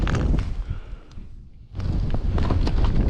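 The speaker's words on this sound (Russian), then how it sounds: "ветер еще сильнее начал продувать" Strong wind gusts across a frozen river during ice fishing in foul weather, roaring loudly into the microphone, dropping briefly, then surging back hard.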